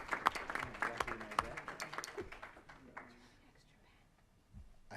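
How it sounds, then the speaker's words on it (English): Scattered audience applause at a school board meeting, a brief burst of fairly close clapping that thins out and fades within a few seconds into quiet room noise. "We weren't expecting applause, but we'll take applause"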